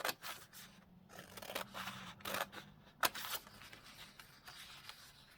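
Scissors snipping through paper for a junk journal, a series of irregular crisp cuts and rustling paper handling, close and quiet, with no voices.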